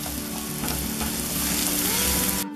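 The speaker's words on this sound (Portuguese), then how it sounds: "Nesse ponto aqui, eu boto as minhas cebolas. Vamos deixar dar uma douradinha, pessoal." Onions frying in a pan for a creamy shrimp-in-pumpkin dish, a steady close sizzle with a soft crackle that runs unbroken to a brief cutoff at the end.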